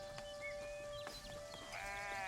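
Sheep bleat in the game Foundation, a few clear calls rising over a steady tonal game hum and ambient background, fairly close and loud.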